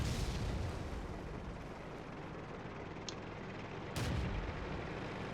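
A World of Tanks Vickers Medium Mk.II firing its pom-pom gun, booming reports within a dense roar of battle noise, a sharper burst standing out near the end.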